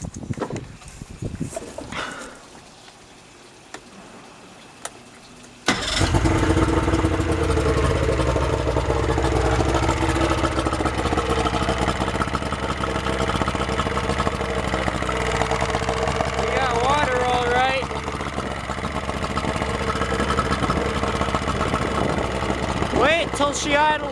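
A Yamaha outboard boat engine that stalled earlier restarts and settles into a steady, loud idle after a few quiet seconds, with brief voices over it.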